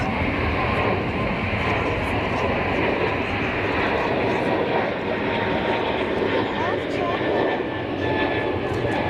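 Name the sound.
airBaltic airliner climbing out after takeoff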